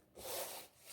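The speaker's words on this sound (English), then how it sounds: "wipe over the top of my canvas just to remove any excess dirt or" A damp paper towel wipes across a painted canvas in one short, soft rubbing stroke, quiet and close, with no speech.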